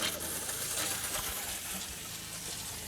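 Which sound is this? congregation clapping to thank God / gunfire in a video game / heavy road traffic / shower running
shower running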